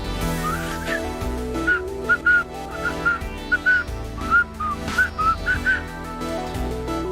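A person whistles in short, repeated low-pitched notes with a rising-falling contour, close and fairly loud, over a steady background with no talk.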